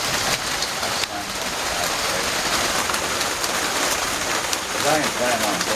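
Steady rain falls on a rainy Friday night, a dense, even hiss that runs throughout, with a few faint bird coos near the end.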